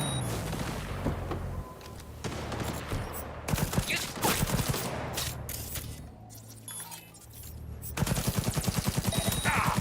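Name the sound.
gunfire in the video game Cyberpunk 2077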